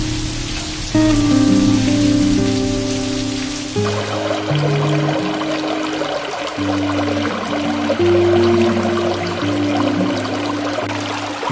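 Steady rain pours onto a surface with dense, even patter, loud and close, running the whole time with no voices.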